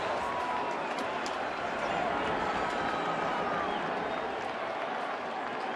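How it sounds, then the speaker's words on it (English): Fans at a 2014 NLDS Giants versus Nationals baseball game give a steady, dense round of sarcastic applause and crowd noise that holds at an even level throughout. "another sarcastic round of applause from the fans"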